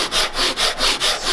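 A hand saw rips through wood while riding against the guide of a shooting board, giving about six even back-and-forth strokes with a raspy, rhythmic scrape, close and clear with no talking.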